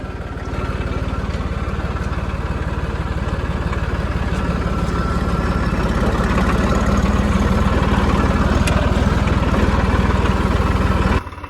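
A tractor engine idles steadily and loudly up close, a continuous low chugging drone that runs unbroken for about eleven seconds before cutting off at the end.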